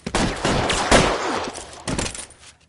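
Shots fired in a 1940s Los Angeles cafe shootout in L.A. Noire: several sharp, loud gunshots come in a quick volley, followed by another burst after a short pause.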